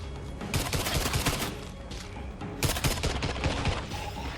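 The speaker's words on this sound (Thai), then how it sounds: "เข้าไปยิงไอ้อ๋องเข้าไปยิงเข้าไปยิง" Rapid bursts of gunfire ring out in two clustered volleys while zombies are shot inside a house in the co-op video game State of Decay 2, the sharp cracks close and loud, with a short lull between them.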